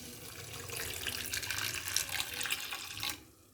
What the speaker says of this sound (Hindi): तो मैं इसमें डालूँगी पानी और इसको उबालूँगी